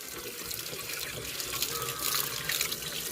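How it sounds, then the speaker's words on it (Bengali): Tap water runs steadily into a container at home, a continuous near splashing hiss that grows slightly fuller toward the end, with no talking. "তো জল এবার ভরতে হবে"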